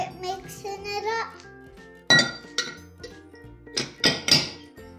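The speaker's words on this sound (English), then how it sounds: "with your spatula, I want you to mix the ingredients in your bowl" A spatula stirs homemade play dough ingredients in a bowl, giving sharp glassy clinks and knocks in loose bursts, with children's voices chattering in between.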